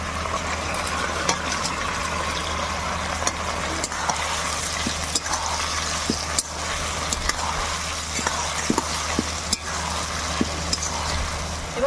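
Fried eggs go into a steadily sizzling pan of egg chili with water and pepper, a constant loud frying hiss punctuated by scattered clicks and scraping stirs.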